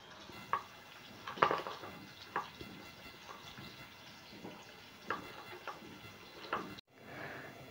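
Steamed idlis being prised out of an idli steamer with a knife, giving a few sparse, faint metallic scrapes and light clinks against the plates, quiet and close with nobody speaking.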